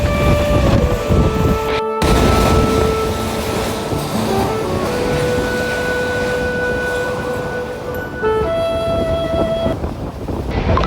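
Sindhudurg Express passenger train running near the Savitri river, a loud, steady rumble of wheels and carriage with wind noise throughout, a brief dropout near two seconds and a few sustained tonal whines over the din.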